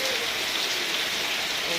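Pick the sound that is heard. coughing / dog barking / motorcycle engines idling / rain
rain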